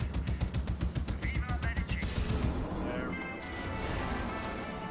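Rapid, heavy turret gunfire in the video game Just Cause 3 pounds out in a fast, steady stream for about two and a half seconds, then breaks off into a softer rumbling tail.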